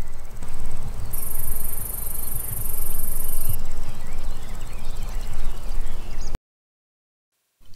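Grasshopper chirping forms a dense, continuous buzzing drone, loud and steady, with a thin high whine near the start. It stops abruptly into silence near the end, and no one speaks.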